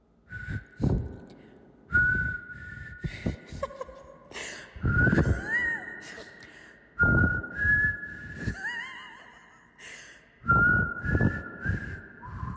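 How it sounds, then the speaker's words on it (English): Someone whistles a melody in several phrases, clear sustained notes with breaths and soft noises between them, close and fairly loud. "Man, I'm bad at whistling."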